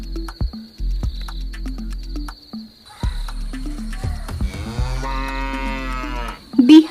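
A cartoon cow moos on a farm, with several short low tonal calls early on, then a longer drawn-out moo building in the second half, ending in a louder rising bellow, no talking.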